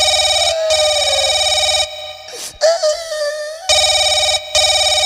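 A telephone ringing in a comic rural police skit, loud repeated electronic ring bursts with short pauses between them, interrupted midway by a brief scuffling clatter before the ringing resumes.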